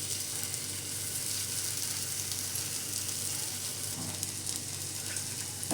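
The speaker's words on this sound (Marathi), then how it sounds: "बटरमध्ये भाजून घेऊ, म्हणजे कुरकुरीत असे होतात।" Aloo tikki fry in butter on a hot pan for a crisp crust, a steady close sizzle that carries on evenly with no break and no voices.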